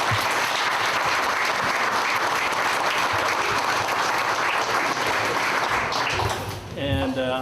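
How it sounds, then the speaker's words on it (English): Audience applause for the Goodwill team at a store grand opening in Richmond Hill, Georgia: sustained dense clapping from a crowd, steady and loud throughout, tapering near the end as a voice briefly comes in. "raise your hand so we can give you a round of applause"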